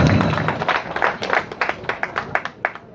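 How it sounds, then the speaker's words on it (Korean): An audience claps at a Korean pumba folk performance, a dense patter of hand claps that thins into scattered, separate claps toward the end, with no talk over it. "박수 한번 쳐주세요."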